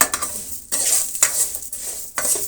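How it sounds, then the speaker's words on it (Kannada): Vermicelli, raisins and cashews fry in a pan of oil while a spoon stirs and scrapes against the metal in repeated strokes, with a bright crackling sizzle underneath and no voices. "ದ್ರಾಕ್ಷಿ ಗೋಡಂಬಿ ಮತ್ತು ಇಷ್ಟು ಶಾವಿಗೆನ ತೆಗೆದುಕೊಂಡಿದ್ದೀನಿ ಇಷ್ಟನ್ನು ನಾನು ಫ್ರೈ ಮಾಡ್ತಾಯಿದ್ದೀನಿ"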